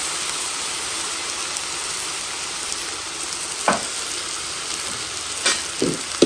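Food sizzles in a cooking pot during the cooking of a pork dish, with a loud continuous frying hiss and a few scrapes and knocks as it is stirred.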